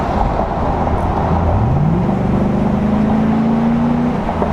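A Chevrolet SSR's 6.0-litre V8, rated near 400 horsepower, gets a short blip of throttle, its pitch climbing smoothly and holding a steady hum beneath broad road and wind noise.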